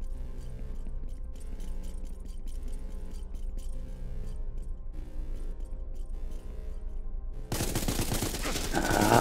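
Gunfire in the space game SpaceBourne 2, a rapid stream of faint, clipped shots rattling in bursts, ending in a louder, harsher blast of noise.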